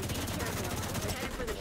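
Minigun fire rattles loudly and continuously in The Division 2, a dense, rapid stream of shots with a voice speaking underneath.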